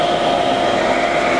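A Harrison VS330TR centre lathe runs at variable speed, giving a loud, steady mechanical whir and hum with a constant tone and no talk over it.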